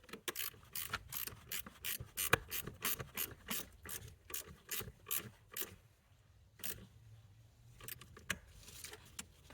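Close ratchet clicking as a 10 mm battery terminal nut is tightened on a 2006-2015 Audi Q7, quick bursts of sharp clicks in several rapid runs with brief pauses between strokes.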